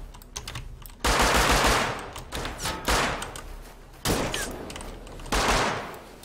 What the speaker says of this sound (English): Is that a shotgun?